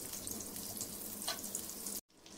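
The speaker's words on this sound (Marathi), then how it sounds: "आता याच्यामध्ये मी थोडासा बटर टाकते" Butter and oil sizzle loudly and steadily in a hot pan while an egg tawa masala is cooked, a dense continuous frying hiss that cuts off abruptly near the end and drops to a quieter sizzle.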